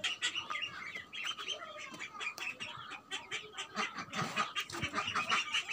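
Ducklings kept indoors in a drum, peeping and chirping constantly with overlapping high, busy calls close by, and a few faint lower sounds beneath.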